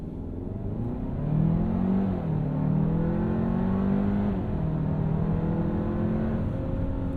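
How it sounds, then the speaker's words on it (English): A 2024 Hyundai Santa Fe with a dual-clutch gearbox accelerates hard from a roll to 60 mph in sport mode, its engine drone rising steadily and shifting pitch through the gears, heard from inside the cabin with no talking. "we will just roll into it here in sport mode"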